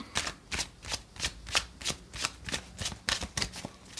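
Tarot cards being shuffled by hand, a steady run of about a dozen crisp riffling bursts at an even rhythm, close and fairly loud, with no speech over them.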